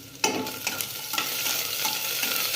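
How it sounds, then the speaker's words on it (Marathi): Green chilies hit a pan of browned onions with a sudden loud sizzle, then keep frying with a steady crackle while a spoon stirs and scrapes through them, close by and with nobody speaking. "मिरची पण थोडीशी भाजून घेतली"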